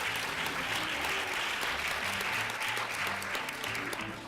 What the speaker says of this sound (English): can we just give another round of applause to the panelists?